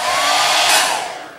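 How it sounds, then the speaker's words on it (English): A hair dryer drying a watercolor painting, blowing loudly up close, a steady broadband whoosh with a faint motor whine, fading as it is switched off. "what we'll do is we'll do the hair dryer"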